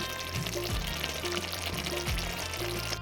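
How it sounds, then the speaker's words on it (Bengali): Cooking oil poured into a kadai (wok) before frying bay leaves and dried chilies for doi katla: a steady, close pouring hiss that runs the whole time under looping background music. "কড়াইয়ে তেল দিয়ে দিয়েছি"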